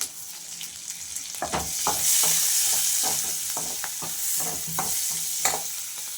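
Green chillies frying in a pan for palak paneer gravy, a steady bright sizzle with scattered stirring clatters and pops throughout, close and moderately loud.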